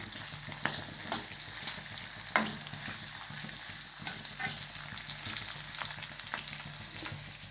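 Green chillies fry in oil for lemon rice (pulihora): a quiet, continuous sizzle with occasional soft clicks of stirring and no talking.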